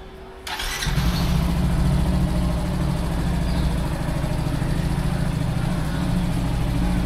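A motorbike engine sputters to life up close and settles into a steady, rumbling idle that holds evenly to the end, with no talking.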